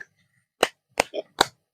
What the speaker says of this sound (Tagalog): sobrang lakas ng kanyon na kawayan natin mga idolo